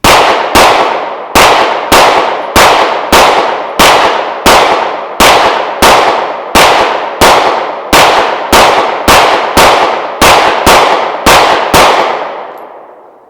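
Rapid string of loud pistol shots from H&K VP9 and VP40 handguns at a shooting range, about sixteen evenly spaced sharp cracks, each with a short echoing tail, with a fading ring after the last.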